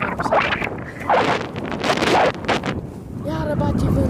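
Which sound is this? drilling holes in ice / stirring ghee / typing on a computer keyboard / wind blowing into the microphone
wind blowing into the microphone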